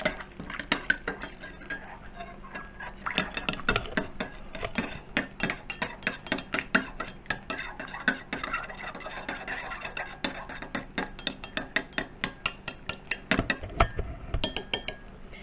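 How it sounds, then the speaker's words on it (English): Metal cutlery clinks and scrapes against a pot or dish while a Lithuanian military ration stock made from powder is stirred, a quick, steady run of close, bright taps throughout, with no talk. "let's stir this a bit because there's still a little bit of powder"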